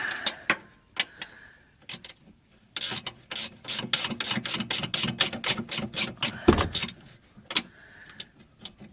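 A ratchet loosens a 10mm bracket bolt on a first-generation Toyota Avalon near the fuel filler neck, giving a close, quick series of sharp clicking strokes with short pauses between bursts.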